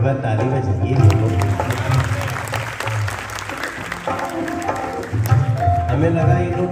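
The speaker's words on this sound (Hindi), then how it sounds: "एक बार ताली बजाइए लोगों।" An audience claps at a stage show, steady applause mixed with someone talking over amplified music that fades and returns.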